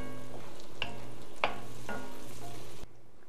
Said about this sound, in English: So the first thing to do is we're gonna add the butter. I'm gonna have my heat on about medium here.